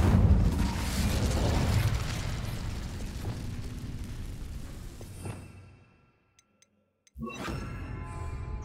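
The Incendio fire spell cast in Hogwarts Legacy makes a loud, rumbling whoosh of flame that slowly fades to near silence before game sounds return with a short burst of activity.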